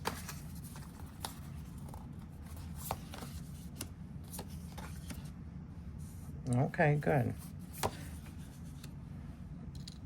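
Soft scattered clicks and light rustling of tarot cards being shuffled run throughout, with a brief spoken phrase near the end.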